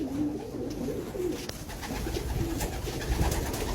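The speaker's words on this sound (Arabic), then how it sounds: "هذا الحمام" Racing pigeons in a loft coo steadily in low, rolling phrases, several birds overlapping close by with a faint rustle behind them.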